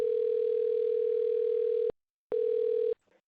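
A steady telephone tone plays as a phone call begins, a continuous loud hum that cuts off briefly, resumes for about a second, then stops, followed by a faint click.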